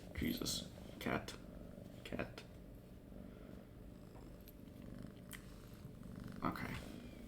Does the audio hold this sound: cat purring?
yes